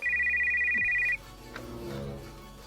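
A phone ringtone rings loudly in a steady warbling pulse for about a second and then stops abruptly as the call is answered, leaving faint room noise and a soft voice afterwards.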